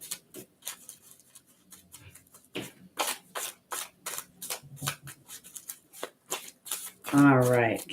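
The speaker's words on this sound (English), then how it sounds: "give it a good shuffle" A deck of oracle cards being shuffled by hand, a run of crisp rhythmic riffling bursts at close range, ending with a voice starting to speak.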